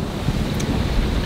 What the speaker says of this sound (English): Looks like we're just about the right power right now for the wind gusts.